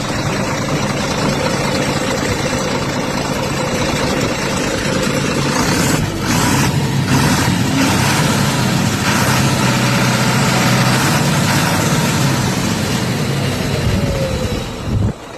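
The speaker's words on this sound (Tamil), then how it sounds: "வண்டியோட இன்ஜின் கண்டிஷன் மிக தெளிவா இருக்குதுங்க." Vehicle engine idling steadily and loudly up close, a continuous rough rumble with no speech.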